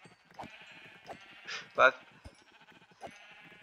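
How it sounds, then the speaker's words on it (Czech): Sheep bleating in Minecraft, a few short cries spread through the moment, moderately close, with people talking over the game sounds. "to je asi ovce"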